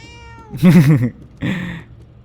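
Two distinct meows from a player-controlled cat in the game Murdered: Soul Suspect, the first longer and wavering, the second shorter, both loud and close with no talk.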